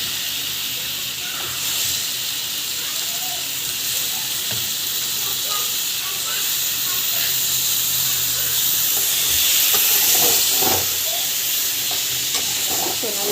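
Raw plantain sautéing in a pan, a steady close sizzle and hiss with occasional stirring scrapes and taps, continuous and fairly loud, with no talk over it.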